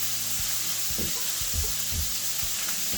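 Food sizzles steadily in a hot pan, a dense close hiss with soft low knocks of stirring underneath, no voices.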